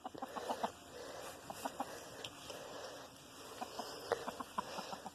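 A hen on pine shavings in a backyard coop clucks softly in short, scattered bursts, faint and close against a quiet background hum, with no talking.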